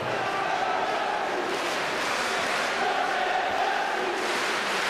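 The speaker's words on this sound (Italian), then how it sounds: "il grazie ragazzi, che è un tributo a questa squadra" Basketball crowd at the Forlì home arena chanting grazie ragazzi for the Forlì team near the end of a game, a broad, sustained roar of many voices filling the hall.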